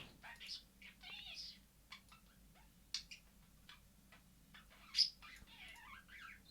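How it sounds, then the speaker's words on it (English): Pet budgie chirping in the background, a scatter of short faint high chirps and tweets at irregular intervals, with quiet talk and soft clicks around them. "He's an awesome budgie."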